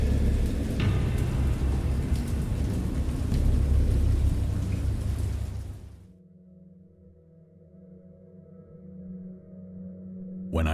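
Thunderstorm with heavy rain in the game Dagon: dense, loud downpour with low thunder rumbling for about six seconds, then cutting off abruptly to a quiet low hum.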